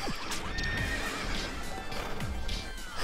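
A horse neighs in the video game Katamari Forever, several loud whinnies with descending pitch sweeps over clip-clop hoofbeats and background game music, and no talking.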